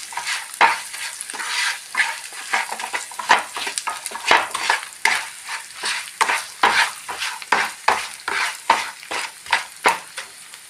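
A dry curry leaf chutney powder mix with salt and asafoetida is stirred in a pan on the stove. A rhythmic run of close scraping and rustling strokes repeats every half second or so, alone and fairly loud.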